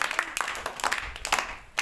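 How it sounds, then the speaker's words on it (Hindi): Students in a tuition class clap for a classmate's mark, a short patter of a few hands, loose and uneven over barely two seconds. "तालियां तो बजा दो।"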